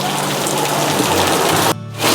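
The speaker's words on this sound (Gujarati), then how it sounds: "વાવ, વરસાદ આવી ગયો છે" The first rain of the season falls on a village, a steady dense hiss of drops that stays loud and close, cuts out for a moment near the end and then returns.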